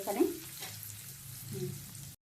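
Freshwater prawns being stirred through spices and hot oil in a pan, with a soft continuous frying hiss and gentle stirring swells, close and fairly quiet before cutting off abruptly.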